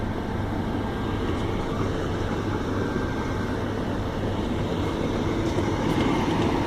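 A passenger train led by locomotive 43194 runs past Tiverton Parkway station, a steady loud rumble of wheels and carriages filling the whole stretch without letup, no voices over it.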